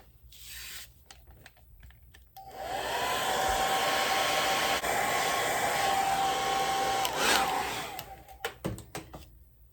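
A hair dryer blowing on a Mod Podge-sealed craft piece, switched on for about six seconds of steady whooshing roar, with faint handling clicks before and after.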